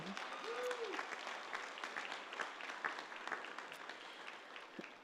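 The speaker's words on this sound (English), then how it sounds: "that deserves a round of applause" A room full of people at a high school graduation ceremony applauds, steady clapping throughout with a brief voice rising near the start.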